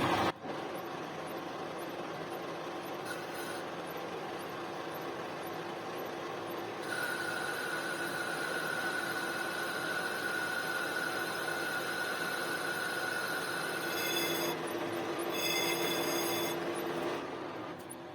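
A lathe machines an Audi wheel rim at 200 rpm with a 0.3 mm per revolution feed, making a steady broadband whir with a sustained tonal whine through the middle and a few brief higher squeals near the end.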